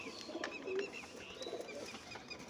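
Village pigeons in an early-morning rooftop loft give soft, low cooing calls, faint against a quiet background with a few light chirps.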